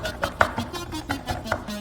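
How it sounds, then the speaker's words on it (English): Aquatic, metallic future bass synth with LFO-automated reverb and cutoff EQ, playing short pulsing chord stabs in an even rhythm, moderately loud and alone. "It's more of an aquatic, metallic sounding synth."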